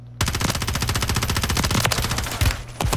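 Rapid automatic gunfire in a video game shooter, a loud, close, continuous burst of evenly spaced shots that breaks briefly near the end before firing resumes.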